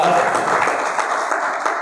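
Listeners at a motivational class in a de-addiction centre give a burst of applause in honour of Dr. Robert Koch, a short, even wash of many hands clapping close by.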